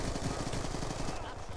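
Rapid automatic gunfire from the Call of Duty Black Ops 2 video game: a dense, steady burst of close, loud shots that rattles on for about a second before cutting off.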